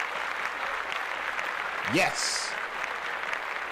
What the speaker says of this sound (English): just clap that up right away